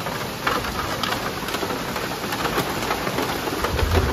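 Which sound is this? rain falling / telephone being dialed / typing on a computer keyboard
rain falling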